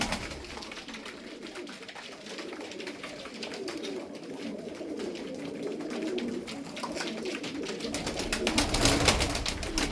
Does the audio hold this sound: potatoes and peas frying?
no